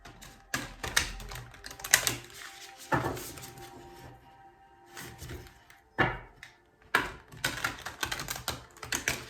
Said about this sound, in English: I'm just shuffling the cards for a second to get one for you